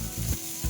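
Minced chicken drops into a pan of sautéed onions and sizzles loudly for a brief moment, close and hissing with no voices.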